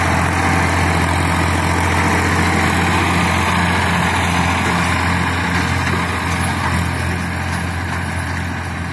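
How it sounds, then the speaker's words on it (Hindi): A Massey 1035 tractor pulling a 14-disc harrow through a field runs with a loud, steady, low diesel drone that stays constant throughout, with no talking. "बहुत बढ़िया ट्रैक्टर"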